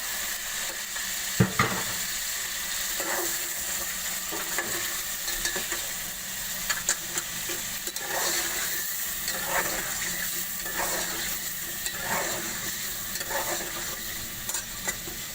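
Potatoes cooking in a pot of mutton curry with a low, steady sizzle. Rhythmic stirring strokes scrape through it every second or so, close by and without speech.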